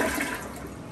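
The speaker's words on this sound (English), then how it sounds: "Now I'll test functionality of the full flush." A home toilet being tested with a full flush after replacement: a loud, steady rush of swirling water that fades slightly across the short stretch, heard alone with no talk.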